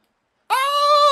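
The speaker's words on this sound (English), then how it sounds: "It quacked for us!" A duck in Zelda: Tears of the Kingdom gives a single sharp, bright quack that starts abruptly after a moment of silence and holds steady and fairly loud to the end.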